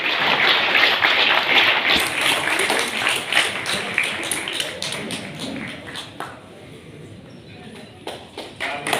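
Audience at a community gathering claps loudly, dense applause at first that thins into scattered individual claps, with voices talking over it.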